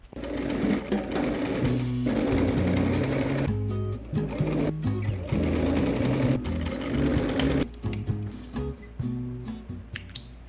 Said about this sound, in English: we're going to be stitching, leaving a 5mm seam allowance once again